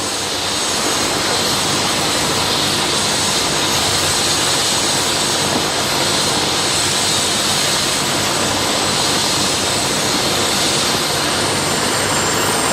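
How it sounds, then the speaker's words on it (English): A helicopter idles steadily at an emergency scene, a loud, close, unbroken roar of turbine and rotor that fills the whole stretch without pause. "help them get the cot back out towards the helicopter"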